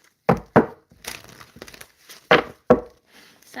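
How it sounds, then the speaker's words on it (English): Tarot cards are shuffled in close, crisp bursts of riffling and slapping, two quick pairs of sharp snaps separated by softer rustling, recorded near the microphone with no talking. "Maybe I can shuffle just a little bit more."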